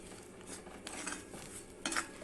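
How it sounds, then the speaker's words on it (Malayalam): Spice powders and curry leaves dry-roast in a pan for a potato and prawn curry, with a spoon scraping and clinking against the metal in a few uneven bursts over a quiet background. "ഈ പൊടികളൊക്കെ ചേർത്തിട്ട് ഒന്ന് വറുത്തെടുക്കാം."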